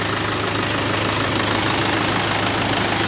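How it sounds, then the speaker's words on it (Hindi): A Mahindra 585 DI tractor with power steering runs at a steady idle, its diesel engine giving a continuous, loud, close knocking chug with no talking over it. "अब आप इसकी आवाज़ सुनिए पावर स्टेयरिंग में है महिंद्रा है क्या शानदार आवाज़ है"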